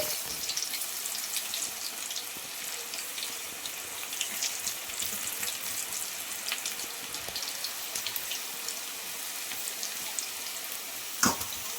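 Drumstick leaf and jowar flour pakoda batter frying in hot oil, a continuous crackling, bubbling sizzle with a sharp clatter near the end, no talk.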